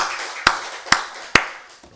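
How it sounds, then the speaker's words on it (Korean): Three sharp hand claps from a church congregation during a Wednesday worship service, evenly spaced about half a second apart, with a light sustained background behind them. "우리 살아계신 하나님께 박수 영광 드리겠습니다."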